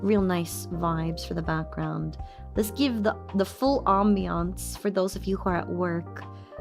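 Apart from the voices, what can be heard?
No everyday noise stands out behind the speech.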